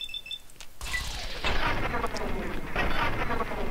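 Gunshots fired by the player at Reavers in Fallout 3, several booming reports rolling into one another, fairly quiet overall with a faint voice briefly audible near the start.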